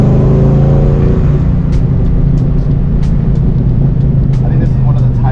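A 2003 Ford Mustang engine hums loud and steady from inside the car while driving in second gear on a canyon road, a constant low drone with faint clicks and ticks over it.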